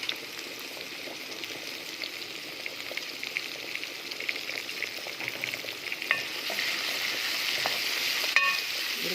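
Tomato paste frying in local ghee gives a steady, close sizzle with soft stirring scrapes, loudening slightly toward the end, with no voices.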